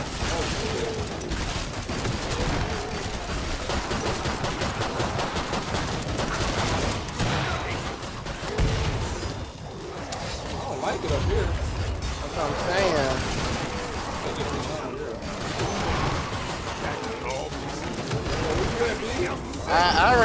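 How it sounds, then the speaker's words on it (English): Gunfire from shooting in the video game Killing Floor 2, dense bursts of shots and clattering action running loud and continuous under talk. "I'm just walking and shooting, bro."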